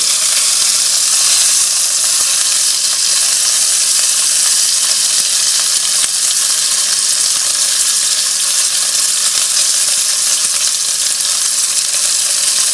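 Tuna steak searing in a hot pan, a loud, continuous hiss and crackle of sizzling oil that stays steady and close throughout with no talking.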